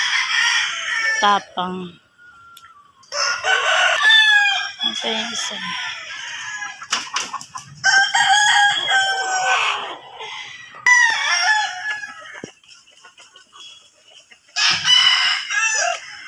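Several roosters crow in repeated loud, nearby bursts with short pauses between them, and a person speaks briefly between calls.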